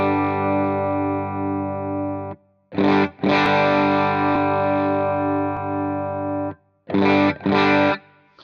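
Electric guitar played through a Line 6 HX Stomp with the ripple setting adjusted: sustained distorted chords ring out with a wavering modulation, broken by short strummed bursts, loud and alone.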